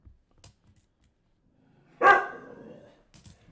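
A small dog lets out one sharp bark that trails off quickly, with faint clicks and taps before and after it in an otherwise quiet room.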